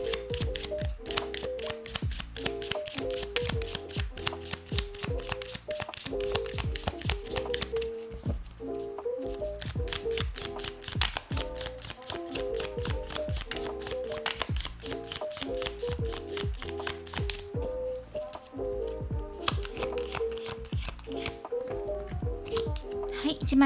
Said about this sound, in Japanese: このエンペラーのカードのところに補足もう1枚切っていきます